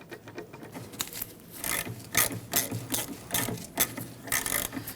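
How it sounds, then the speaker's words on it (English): A ratchet wrench works a bolt loose on the parking brake hardware of a 1999–2004 Jeep Grand Cherokee, with repeated quick clicking bursts and metallic rasping close by at moderate volume. "We're going to set it up into the top and remove that bolt."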